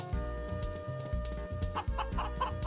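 Clucking chickens from the farm game Harvest Moon: Magical Melody, heard as a bouncy stream of synthesized clucks layered over looping background music.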